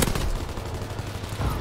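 Rapid machine pistol fire in Call of Duty: a dense, steady burst of close gunshots running through the whole moment, with another punchy cluster near the end.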